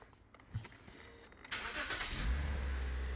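A Toyota Mark X starts up with a car engine noise that swells and then holds steady at a low, loud rumble, with a rack and pinion steering noise possible in the mix.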